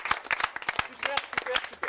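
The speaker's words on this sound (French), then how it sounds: "On peut s'applaudir parce qu'on était super." A small film crew claps for themselves after a finished making-of shoot, scattered uneven claps mixed with voices talking over them.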